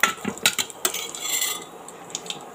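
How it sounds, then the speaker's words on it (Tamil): Whole spices for ghee rice being stirred in a pan, a quiet run of close metallic scrapes and clinks from a spoon against the pan, with faint sizzling between them. "இப்போ நம்ம சேர்த்த ஸ்பைஸை ஒரு தடவை நல்லா மிக்ஸ் பண்ணிக்கலாம்."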